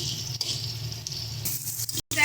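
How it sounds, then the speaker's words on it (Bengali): Pre-steamed potatoes fry in hot oil until lightly browned, giving a steady, moderately quiet sizzle that runs throughout and breaks off briefly near the end. "সেমভাবে হালকা একটু লাল লাল করে আলুটাকে ভেজে নেব"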